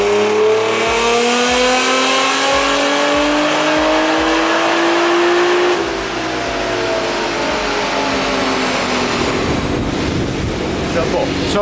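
Car engine on a dyno running on pump gas, revving hard with a steadily rising pitch, peaking and dropping off, then roaring on amid wind-like rush.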